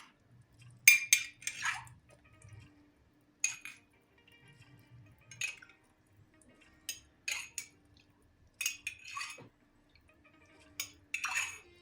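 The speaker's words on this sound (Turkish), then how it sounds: "bu karışımı bir kaşık yardımıyla her yerine gelecek şekilde ilave ediyoruz arkadaşlar" A spoon spreads a mixture over a fig dessert cake in a dish, giving quiet scattered scrapes and clinks against the dish in short separate bursts with pauses between.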